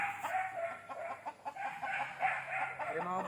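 A hen clucks repeatedly in short, uneven bursts, with other chicken calls and farmyard background noise around it.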